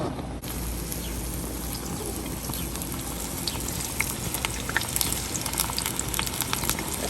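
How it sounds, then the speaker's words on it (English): Diced onions fry in palm oil in a pot, a steady bubbling sizzle with scattered small pops and crackles, moderately quiet and without talk. "Frying some onions first."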